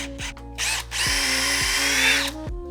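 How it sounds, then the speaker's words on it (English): A handheld power drill with a 5/16 inch bit whines steadily through a slow hole, with brief starts and stops before one long, close, continuous run. "that's where we're gonna drill with our 5/16 inch bit"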